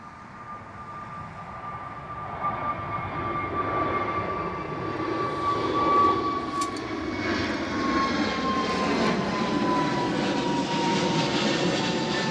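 A Ryanair jet at Newcastle Airport taxis and powers up for takeoff, a steady engine whine under a broad, swelling roar that grows heavier and holds strong, heard at a distance with no voices.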